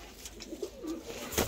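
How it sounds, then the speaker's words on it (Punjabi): Pigeon cooing in short soft phrases, heard close amid faint background noise, with a brief louder rustle near the end. "ਲੋ ਸਰ ਇਹ ਕਬੂਤਰ ਆ ਜੀ"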